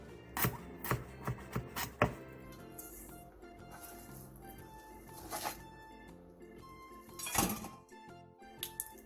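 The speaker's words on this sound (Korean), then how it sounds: "양배추를 최대한 얇게 채 썰어 한 줌 준비해주세요." Cabbage sliced very thin with a knife on a cutting board, a quick run of crisp chopping taps at the start, then quieter sparse cuts and a couple of louder knocks later, with faint music in the background.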